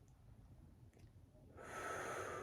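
A deep breath drawn in through the nose. Quiet breathy air swells sharply partway through and holds as a long, close, steady inhale with no talking.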